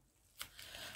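Decorative tape peeled and torn from a roll at a gift bag, a quick sharp rip followed by a soft crinkly scraping, close and quiet.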